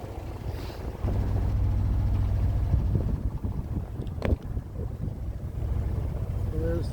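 A large ferry, the Sir Wilfrid Laurier, rumbles past close by in the Gulf Islands, a steady low engine drone with wind buffeting the microphone and a brief knock partway through.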